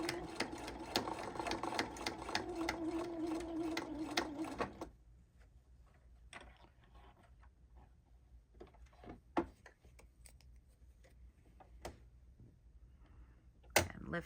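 A sewing machine runs steadily for a few seconds while stitching over a tote bag strap to reinforce it. Quiet, scattered clicks and handling taps follow once it stops.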